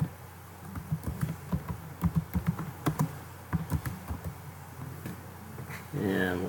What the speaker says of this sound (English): and we're going to type pegboard toy